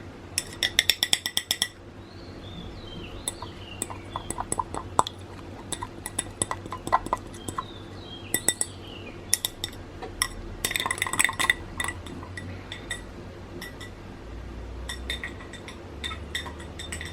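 The end of a whisk scraping and tapping powder in a cup while a drink is prepared, sharp intermittent metallic clinks and scrapes in bursts with quiet gaps between.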